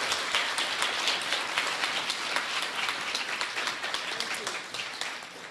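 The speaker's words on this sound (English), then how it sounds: "Let's give her a round of applause and ask if she will come to the stage." Steady applause from an audience at a conference talk on women's success in Washington, a dense wash of clapping that holds for several seconds at moderate loudness and thins slightly near the end.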